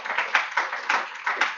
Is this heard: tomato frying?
no